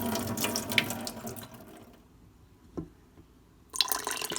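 Tap water running over quinoa in a kitchen sink during a final rinse, a steady splashing stream that drops to near quiet with a single drip before the flow resumes strongly.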